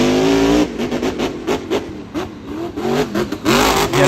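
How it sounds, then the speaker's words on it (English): Grave Digger monster truck at a 2022 Jacksonville show, its engine refiring and revving: a loud, close, throaty roar that swells, dips through several throttle blips and surges back up at the end. "We're going to get that truck refired. Back and running."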